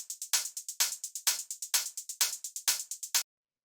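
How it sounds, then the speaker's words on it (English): Closed hi-hats in a dark techno beat, crisp bright ticks in a steady sixteenth-note pattern with accented bursts roughly every half second, loud and dry with no other instruments, stopping abruptly after about three seconds. "The next thing we have here is the hi-hats, which sound like this."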